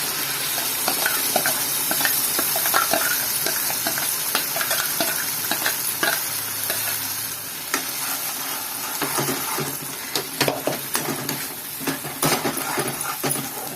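Ginger and ground spice paste fries in hot oil for a bajji mirchi masala curry, a steady close sizzle broken by repeated spoon scrapes and clinks against the pan.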